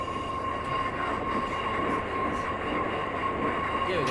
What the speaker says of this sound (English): Let's get the train to a decent speed.